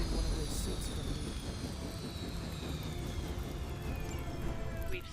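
Helicopter rotor and engine noise from the Marvel's Midnight Suns video game, a steady, loud droning roar with whining high tones, running continuously under game action with a voice present.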